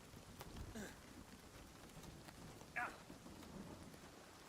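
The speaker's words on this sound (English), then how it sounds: "Oh, it's hailing." Hail pelting down in the video game Nightingale, a dense steady patter of small hits with a few sharper cracks, carried on a soft windy background.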